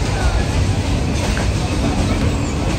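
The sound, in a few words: train running, heard from inside the carriage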